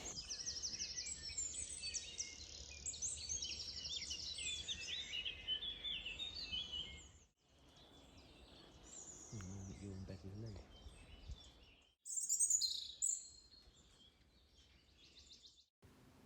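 Birdsong fills a French forest that was thinned to let in light, with dense high chirps and trills running continuously for several seconds. After a brief lull, a few fainter calls return, and a low voice-like murmur sits underneath.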